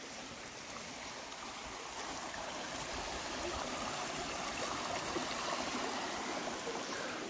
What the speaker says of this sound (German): Hier läuft auch eine Bach durch das Gelände.